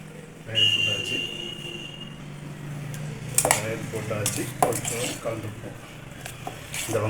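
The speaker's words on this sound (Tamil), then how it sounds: "போட்டாச்சு. கொஞ்சம் கலந்துப்போம்." Onion raita of yogurt, onion and a little sugar is stirred in a bowl, with a spoon clinking and scraping against the dish in irregular knocks, and faint voices in the background.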